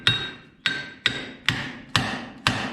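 Six sharp metallic hammer taps ring out at an even, unhurried pace on a 1970 Minneapolis Moline U302 propane tractor, each strike close and clear with a short ringing decay.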